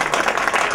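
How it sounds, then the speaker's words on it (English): Crowd applause fills a short stretch as an audience greets a guest speaker at an event, steady broadband clapping with no gaps, fairly loud and close. "join me in a round of applause"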